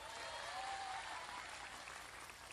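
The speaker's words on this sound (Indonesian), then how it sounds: "Tepuk tangan untuk Tadripin." An audience at a live religious lecture gives faint, steady applause, a dense wash of clapping heard from a distance with no other sound above it.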